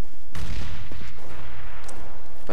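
Gunfire in the shooter CS:GO: a loud, close burst of shots near the start, followed by quieter scattered reports and a sharp shot at the very end, with no talking.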